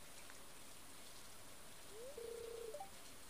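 Soft, steady rain falls in the video game Stardew Valley, a faint continuous hiss with a brief tonal chime near the end.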